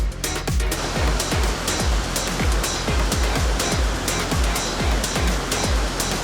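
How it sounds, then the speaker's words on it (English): Echo Creek Falls, a spring waterfall in Lake Country, British Columbia, rushes as a steady broadband roar heard from a distance, with no voices over it. "looks like we found the falls."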